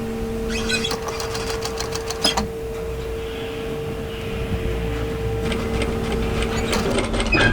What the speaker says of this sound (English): I'm sewing as an edge stitch, which is just using the edge of my presser foot as a guide